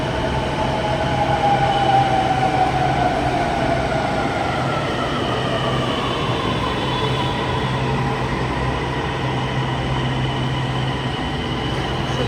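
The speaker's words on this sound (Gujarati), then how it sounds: "જો મેટ્રો આવ્યું." A metro train pulls into a station platform, its rumble and whining, descending electric motor tones filling the space loudly and steadily as the cars roll past and slow, with no voices over it.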